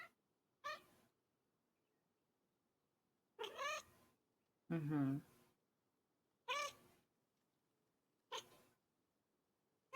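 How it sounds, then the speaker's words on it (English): A cat gives five separate meows spaced a second or two apart, close and clear in a quiet room, some short and chirpy, one longer and lower, with a person murmuring briefly in between. "Tiny little meows."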